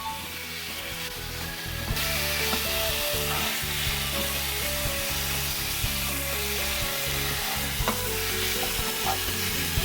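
Sliced pork belly being stirred with sugar in a pot, a steady loud sizzle with scraping stirs and occasional clinks throughout, no voices.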